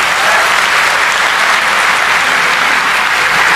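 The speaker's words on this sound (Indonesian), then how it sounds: "Tepuk tangan semuanya ya." Loud, dense applause from a large crowd, steady and sustained throughout with no pauses.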